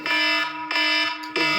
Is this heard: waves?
no